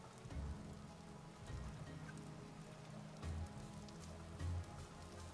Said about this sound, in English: Rain seems to be like an entirely positive thing as well.